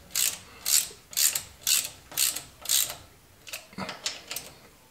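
A ratchet tightening radiator bolts on a 1953 GMC 4x4 truck: about nine sharp clicking bursts in a steady rhythm, close and clear, with no talk.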